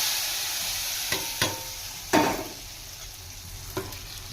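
Hot tempering fried for sambar rice, with a soft continuous sizzle and a few sharp clinks and scrapes of a spoon on the pan, close and clear, with no voices.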